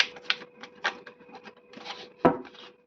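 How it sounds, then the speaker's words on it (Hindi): Tarot cards shuffled by hand close up, a run of soft papery riffles and slaps in uneven bursts, ending with one sharper snap as the deck is squared. "Last shuffle."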